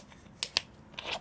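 A can of Monster Energy M3 energy drink cracks open with two sharp, close pops followed by a short fizzy hiss of carbonation, with no talking.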